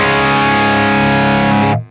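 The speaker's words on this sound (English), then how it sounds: "But if you turn it to the left now, you get this subtle high cut." Electric guitar run through a Browne Carbon V2 overdrive pedal with the toggle set left for a subtle high cut, a loud sustained distorted chord ringing alone before cutting off abruptly.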